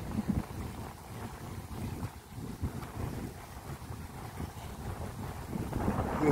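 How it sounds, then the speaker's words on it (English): Sea water at Commewijne, Suriname, heard as a low, rolling wash of waves with gusty wind buffeting the microphone, moderately quiet and steady with no voices. "The sound of the water."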